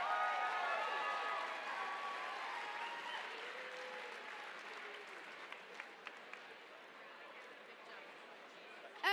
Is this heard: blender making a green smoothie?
no